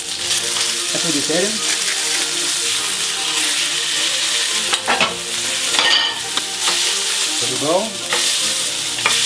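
A steak frying in a pan gives a loud, continuous close sizzle, broken by a few sharper scrapes and spatters as it is turned, while someone speaks briefly over it.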